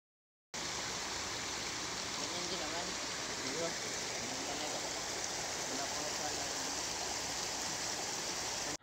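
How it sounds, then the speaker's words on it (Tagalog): Steady broadband rush of flowing river water at a private resort, continuous and fairly loud throughout, with no other sounds standing out. "dinig na agad yung lagaslas ng tubig na ang sarap pakinggan"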